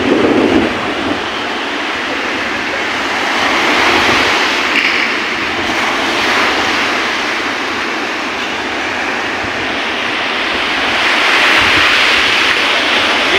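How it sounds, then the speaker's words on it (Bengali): Waves wash against the shore of Lake Ontario on a cold, windy, rainy winter day, a loud continuous roar of surf that rises and falls slowly, with no talking. "সমুদ্রের মতোই ঢেউ।"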